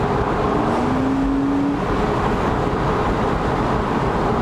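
Continuous loud engine and road roar from inside a moving 2010 Porsche Boxster S as it accelerates, with a brief rising tone partway through and no talking.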